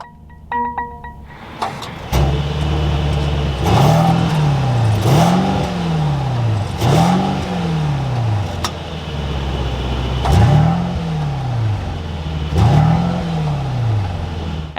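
A 2021 Mercedes-Benz GLS 580 starts up with a brief crank and catch, then its engine gives five loud, close revs, each rising and falling back to a steady idle.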